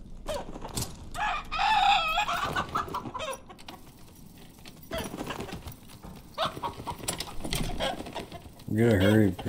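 A player turned into a chicken in the dark fantasy dungeon game Dark and Darker clucks in short bursts and crows loudly at the end, mixed with people talking and background game noise.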